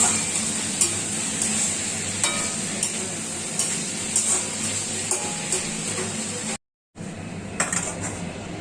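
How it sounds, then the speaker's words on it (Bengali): Ritha fish frying in a pan, a steady close sizzle with repeated metallic scrapes and taps of a utensil against the pan, briefly cut out near the end before resuming. "এখন রিঠা মাছ ভাজা হচ্ছে।"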